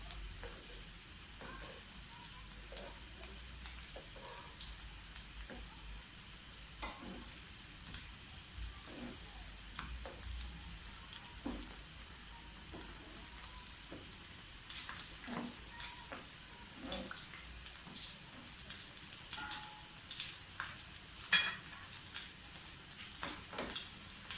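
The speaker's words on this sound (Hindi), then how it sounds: "वो फ्राई होते जा रहे हैं" Semolina potato fries bubble in hot oil with a quiet, steady sizzle broken by scattered crackles and pops, heard close and alone.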